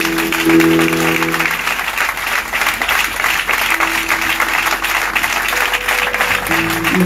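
A church congregation at a Sunday worship service applauds steadily for several seconds, a dense, even patter of many hands clapping indoors, with faint tones sounding underneath.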